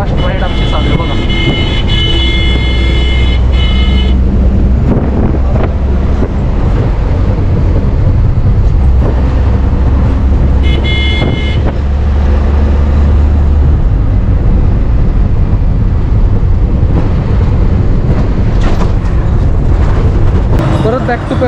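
City bus ride on the route from Katraj to Kapurhol, a loud continuous engine drone and road rumble with wind buffeting and rattles inside the moving bus, while someone talks over it.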